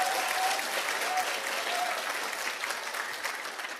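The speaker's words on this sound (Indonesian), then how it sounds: "tepuk tangan dong gitu." An audience in a business seminar hall breaks into steady applause, dense clapping that holds at an even level throughout and fades slightly toward the end, with no one speaking over it.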